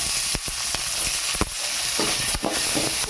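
Green chilli, ginger and garlic sizzle and fry in a pan, a steady close hiss broken by occasional sharp crackles and stirring scrapes, with no talking.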